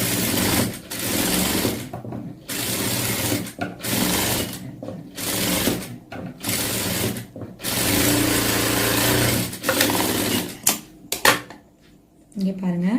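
A tailoring sewing machine stitches fabric in close, steady whirring runs broken by short pauses and a few quick bursts toward the end.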